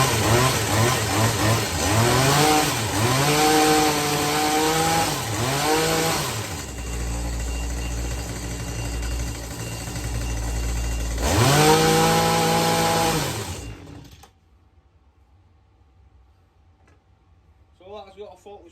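A Stihl HS80 hedge trimmer's small two-stroke engine runs loud and close, revving up and down in bursts, idling, then revving again before cutting out into near silence with a few faint clicks.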